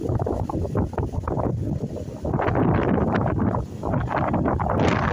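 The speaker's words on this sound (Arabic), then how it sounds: "ريح قوي، ريح تقريبا 90 كيلومتر في الساعة" Strong wind of about 90 km/h roars and buffets the microphone continuously, with gusting surges and rumbling low noise throughout, no voices.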